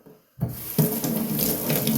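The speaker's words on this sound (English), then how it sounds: "You rinse up real quick." Tap water gushes into a sink to rinse a 1901 Gem Junior Lather Catcher safety razor, starting abruptly and then running steadily, loud and close.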